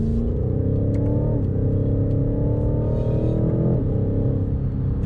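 A 625 hp BMW M8 Competition coupe with xDrive on a Spanish road: loud, close engine drone from inside the car, rising in pitch through the gears with two clear upshifts, no talk.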